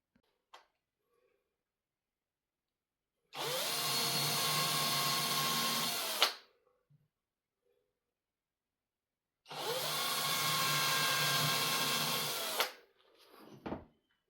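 Two long bursts of a power drill piloting into plasterboard, each about three seconds, with steady high-pitched whine and grinding, separated by quiet pauses; a brief clatter at the end.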